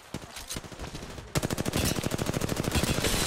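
Apex Legends gunfire: a few scattered shots, then a sudden, loud stream of rapid automatic fire rattling on steadily to the end.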